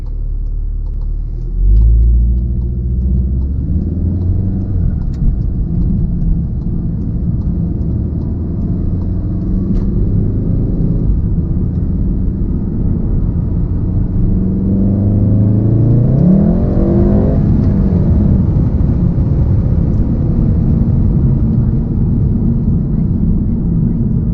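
A Volkswagen Golf R Mk7 engine in sport mode rumbles steadily, then revs up twice with rising pitch, loud and close throughout, the second rev swelling more strongly before settling back.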